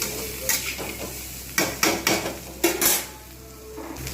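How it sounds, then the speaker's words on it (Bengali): Fried pumpkin and pointed gourd are stirred with turmeric, cumin and chili powder in a pan, producing a few bursts of scraping, clattering spoon strokes over a light sizzle, close and without speech. "হলুদ গুঁড়ো, এটা অ্যাড করে দিলাম। ভালো করে এগুলো আমি নাড়িয়ে নেব।"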